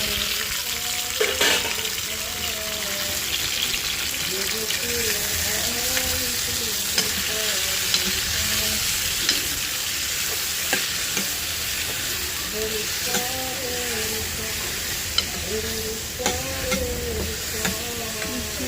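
Tomatoes, green chillies and curry leaves fry in a pan with a steady broadband sizzle and crackle, scattered pops and occasional clinks of a stirring utensil over about nineteen seconds, with no talk.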